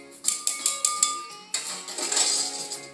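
A spoon stirs orange zest, garlic and sugar together for a dry glaze for pork tenderloin, tapping out a quick run of bright clinks against the bowl before settling into a fuller, continuous scraping swirl.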